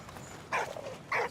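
A dog in the video game Valiant Hearts gives two short, close barks or yips about half a second apart over a quiet background.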